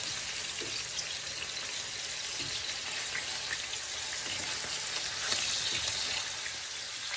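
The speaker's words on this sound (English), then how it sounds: "So you're just gonna sear them and each side a little bit." Turkey meatballs sear in a pan with a steady close frying sizzle and crackle, with scattered small pops and no talk.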